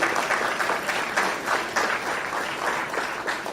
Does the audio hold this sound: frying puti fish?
no